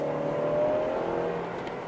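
A Honda Civic Type R engine drones steadily from inside the cabin while driving. The hum is sustained and moderately loud with a faint rising whir, and no one speaks.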